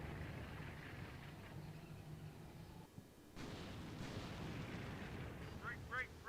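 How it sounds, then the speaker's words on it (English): Artillery strike in Combat Mission Shock Force 2, a steady low rumbling barrage of distant explosions that briefly dips and then resumes, heard faintly with bits of radio chatter and voices. "Alright, so we're dropping that artillery there."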